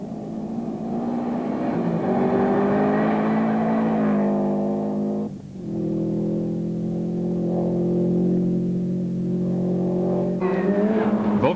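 A Subaru Impreza rally car at the Cape Rally 2003 roars close by, its engine climbing through revs in long pulls, briefly dropping off for a shift or lift, then pulling hard again and rising at the end.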